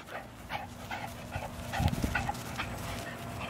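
A dog whimpers and pants close by, with soft whines and breathy sounds that rise briefly in the middle over a quiet indoor background.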